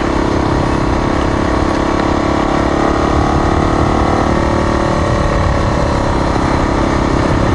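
Yamaha WR250R dual-sport motorcycle on a North Georgia mountain dirt road, its engine a steady, continuous drone with wind rush, with no voices over it.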